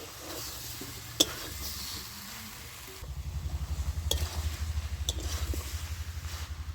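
Jackfruit and potatoes frying and being stirred in a pan, a soft steady sizzle with scraping strokes that become a quick rhythmic stirring partway through, plus a couple of sharp clinks of utensil against pan.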